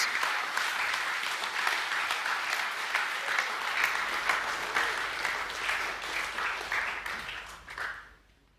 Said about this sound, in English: Please give a round of applause for the Year 12 Academic A winners.